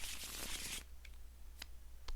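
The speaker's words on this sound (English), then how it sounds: "These cards all get shuffled in." A deck of playing cards is shuffled for the Marvel Champions card game, a quick, soft riffle lasting under a second, followed by a few faint taps of cards on a table in a quiet room.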